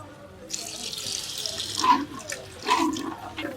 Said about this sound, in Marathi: त्याच्यामध्ये थोडस पाणी टाकू आपण म्हणजे मसाला शिजून येईल